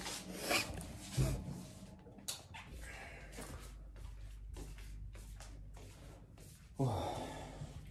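Lip balm is rubbed across the lips, giving soft, close rasping strokes in irregular bursts mixed with small breaths and light movement noise, with no talking.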